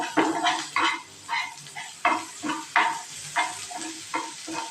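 Cabbage with salt being sautéed in a pan for an egg and cabbage stir-fry, about a dozen rhythmic scraping stir strokes over a soft sizzle, close and alone.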